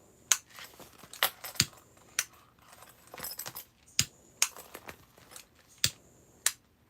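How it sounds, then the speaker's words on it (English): Scissors snip sewing threads close by in a run of sharp metallic clicks, about a dozen irregular cuts with small handling rustles between, and no talk. "Go ahead and trim your threads"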